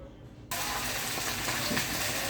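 Chopped carrots and vegetables drop into hot butter with mustard seeds for a vegetable stew, setting off a sudden loud, steady sizzle that continues close up.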